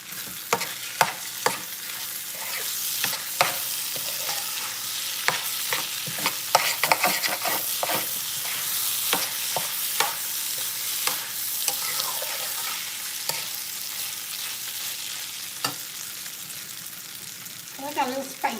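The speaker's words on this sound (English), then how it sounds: "So we're going to let the rice fry a little." Rice frying in a pot for a chicken and red bean cook-up, stirred with repeated sharp scraping clicks over a steady, fairly loud sizzle that runs throughout with no talking.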